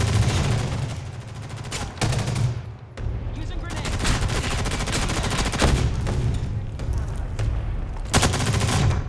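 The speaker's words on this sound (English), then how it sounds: "This is bad shooting on my part." Rapid gunfire in a first-person shooter video game, sustained and loud throughout with dense bursts of automatic shots and sharper volleys near two, four, six and eight seconds, steady and close with no voices.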